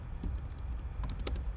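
Rapid keystrokes on a computer keyboard, a short burst of light, close clicks tapping out a word, with a few quick presses clustered near the end.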